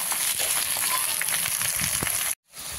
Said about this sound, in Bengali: এগুলো দিয়ে একটু ভেজে নেব।